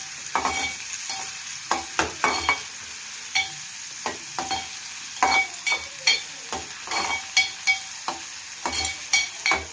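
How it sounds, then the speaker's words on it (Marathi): Chopped onion fries in hot oil in a pan while a spoon stirs it, giving a soft continuous sizzle with frequent sharp scraping clicks and taps against the metal, close up and without speech. "पहिले प्रथम आपण कांदा टाकू ते पण परतवून घ्या"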